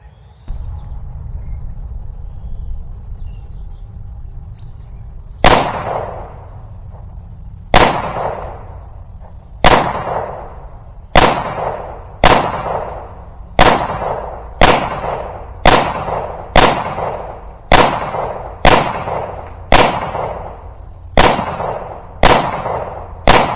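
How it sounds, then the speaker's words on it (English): Stealth Arms Platypus 1911 pistol fired outdoors, about fourteen sharp, loud shots at a slow, irregular pace, each ringing off into a decay, with insects chirping steadily in the background. "We're going to go ahead and give some shots down range and see how it does"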